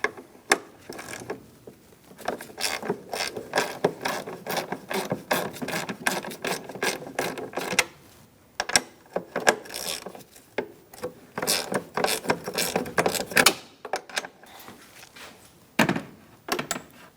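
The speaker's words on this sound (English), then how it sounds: "now we're going to loosen up these 2 nuts. I'm going to use a 10mm socket to do that" A 10mm socket ratchet loosens the two battery terminal nuts on a 2012-2018 Ford Focus, giving a long run of close, steady metallic ratcheting clicks with short pauses between bursts.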